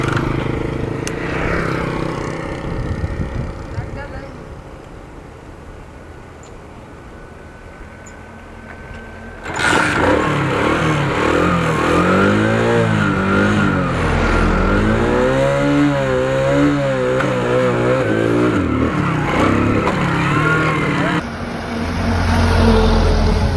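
A motorcycle engine revs hard during wheelie stunt practice, quieter idling at first, then loud, repeated rising and falling throttle swells for about ten seconds before a brief sharp burst at the end.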